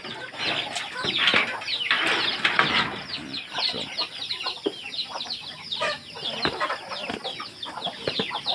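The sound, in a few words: many pet chickens clucking and flapping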